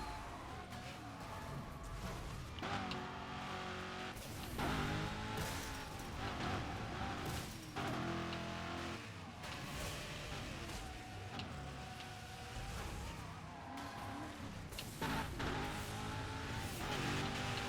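Cars tearing along narrow, bumpy roads in the racing game Burnout, engines roaring continuously with repeated tire squeals and skids as vehicles pass close, no voices over the racing.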